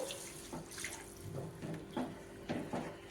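Water poured into a pan of stuffed brinjal curry, a soft irregular splashing and gurgling in several short bursts, fairly quiet and with no voices.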